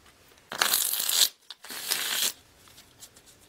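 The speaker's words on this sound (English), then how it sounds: "Okay, 2 more shuffles." A deck of tarot cards is shuffled twice in quick riffling bursts, close and crisp, with a short pause between them and quiet afterward.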